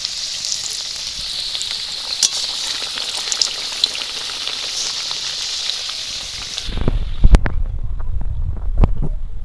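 Nimki dough pieces deep-frying in hot oil, a steady close hiss and crackle of bubbling oil that drops away near the end, leaving a few sharp clinks and low rumbles.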